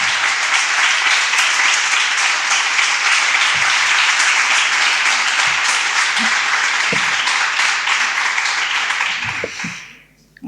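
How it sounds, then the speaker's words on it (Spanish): Loud, sustained applause from a crowd at a suicide prevention conference, a thick continuous wash of clapping that holds steady before fading out near the end, with a few faint voices underneath. "Un aplauso."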